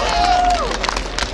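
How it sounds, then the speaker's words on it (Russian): Crowd noise at a Buryat wrestling match on Red Square in Moscow, a dense continuous wash of cheering and clapping with scattered voices in the babble, brief and fairly loud. "Аплодисменты."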